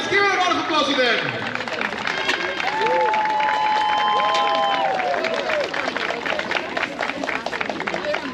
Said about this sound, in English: Let's give it a round of applause to them.